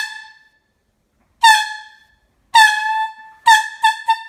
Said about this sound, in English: when I blow this lovely little air horn